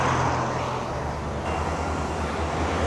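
Steady car traffic on a busy main road, a continuous broadband roar of passing vehicles heard from a bicycle, moderately loud with no speech.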